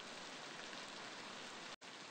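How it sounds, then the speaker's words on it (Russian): Light rain in the Beasts of Bermuda video game hisses as a steady, even wash of fine drops, broken by one abrupt split-second dropout near the end. "такой маленький дождь на моего птеру, ну, вообще никак не действует"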